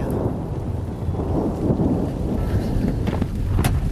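Thunder from a nearby lightning strike during a storm rolls as a loud, deep, continuous rumble with rain and wind noise around it.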